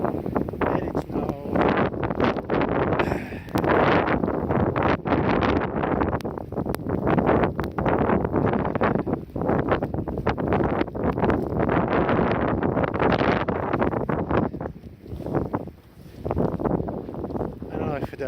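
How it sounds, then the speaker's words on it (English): Strong wind roars and buffets the microphone during a snowstorm, loud and gusting continuously, with brief lulls. "Right now, the wind is picking up."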